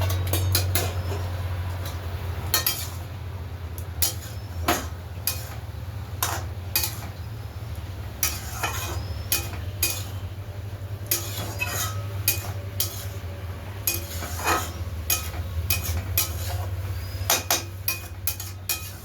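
Tender broad beans with red amaranth greens get stirred in a cooking pot, giving repeated metal clinks and scrapes over a steady low hum of a fan.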